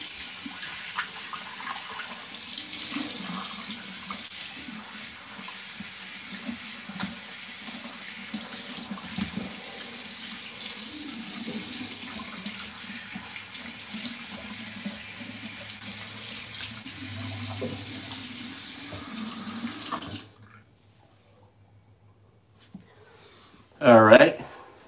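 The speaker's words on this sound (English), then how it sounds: "now I'll rinse it out with some warm water" Warm water running from a faucet while hair is rinsed, a steady broadband splashing wash for about twenty seconds, then a near-silent pause and a brief louder burst at the end.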